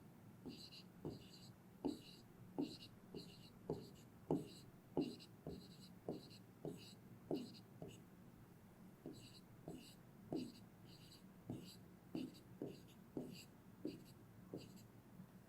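A pen scratches across paper in short repeated strokes, close and quiet, with a soft voice speaking faintly beneath the writing.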